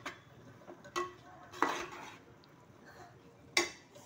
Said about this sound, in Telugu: ఇదంతా కలిసేలాగా ఒకసారి కలుపుకుందాం